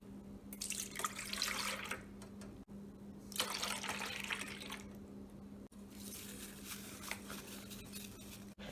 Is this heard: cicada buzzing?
no